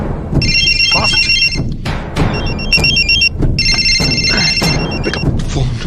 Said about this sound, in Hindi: Pick up the phone.